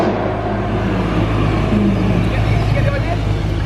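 A BMW E92 M3 with a decat exhaust gives a loud, steady, deep engine drone that runs unbroken and sounds close, with no clear voices over it.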